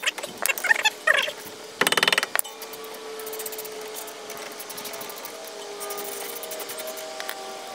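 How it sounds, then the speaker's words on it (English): Mallet blows on a car brake caliper screw while brake pads and rotors are replaced: a few quick sharp knocks, then a dense burst of rapid strikes, close and loud, with metallic clinks and scraping between them and no talk. "We're going to use the mallet to loosen up the screw."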